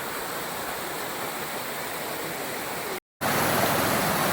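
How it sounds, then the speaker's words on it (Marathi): A gurgling stream in a Konkan village beside farmland, swollen after heavy rain, rushes in a steady, dense wash of water noise with one brief cut near the end. "हा बघा, ते खळखळणारा एकदम ओढा आहे."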